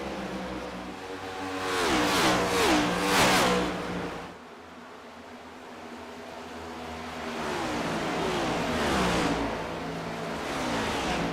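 Next Gen Cup stock cars race at Las Vegas Motor Speedway in a video game, engines droning loudly as several cars pass in quick succession, with a quieter stretch before the engine roar builds again.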